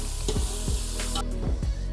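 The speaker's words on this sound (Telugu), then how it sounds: "కొంచెం అల్లం పేస్ట్ వేసుకోవాలి. అలా ఇలా కలిపుకోవాలి." Ginger paste and turmeric frying in a pan while being stirred, a loud close sizzle punctuated by several rhythmic scraping strokes of the spoon against the pan.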